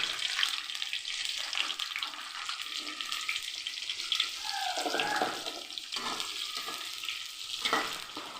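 Whole cinnamon, cloves, cardamom and pepper frying in hot oil, a continuous crackling sizzle with stirring scrapes and shifting bursts, close and moderately loud.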